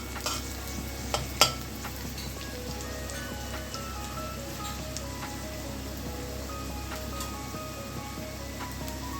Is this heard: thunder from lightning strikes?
no